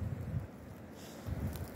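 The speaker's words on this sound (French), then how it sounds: "il y a encore énormément de vent" Strong wind buffets a camper van, coming in low rumbling gusts that swell, ease off in the middle and rise again.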